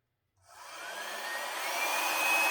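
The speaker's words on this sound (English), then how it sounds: "Get my trusty little hair dryer out." A steady, airy blowing hiss starts after a brief silence and holds at an even level, a small hair dryer on low running close by over acrylic paint.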